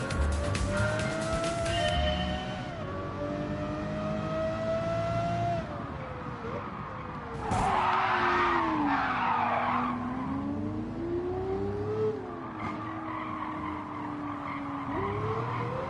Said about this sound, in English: I'm finally racing a Lamborghini.